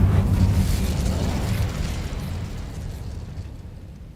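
An Incendio fire spell goes off in the video game Hogwarts Legacy with a loud, deep burst of flame that then rumbles and fades slowly over several seconds. No voices are heard.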